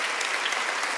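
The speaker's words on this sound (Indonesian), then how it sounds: "Tepuk tangan buat Yesus." A church congregation at an online Kingdom Celebration service claps in a steady, dense burst of applause, continuous and even throughout the short moment, with no voices over it.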